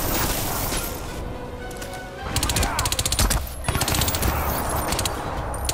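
Bursts of automatic gunfire from the video game Crysis 2, loud rapid volleys starting partway through and repeating in clusters over a steady game background, with a player talking over the action.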